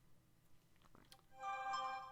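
A phone ringtone chimes in with a bright melodic tone after a second of faint clicks and rustling, then continues steadily to the end, near and moderately loud, with no talk.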